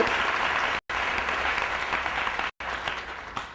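Audience applause fills the room, dense and loud, a sustained wash of many hands clapping with two brief cut-outs interrupting it.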